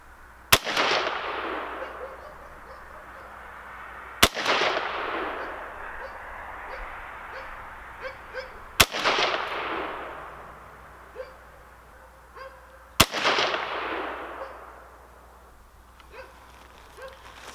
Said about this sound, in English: Let's do 5 more at that same target while I've still got everything running, set up.